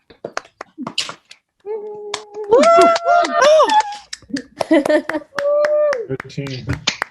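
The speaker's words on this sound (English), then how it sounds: "let's go off mute again and applaud everyone here who worked to create this experience" Zoom call participants unmuted together, giving scattered hand claps mixed with whoops, cheers and overlapping voices, uneven and close-miked, with talking before and after.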